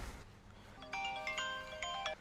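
A phone's ringtone for an incoming call, a bright melodic chime that rises from quiet noise and plays for just over a second, fairly close.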